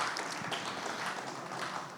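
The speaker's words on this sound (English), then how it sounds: "Big, enormous round of applause to everyone who came here and pitched tonight" Faint, steady applause from an audience for the presenters at a startup pitch demo day, heard at a distance with no voices over it.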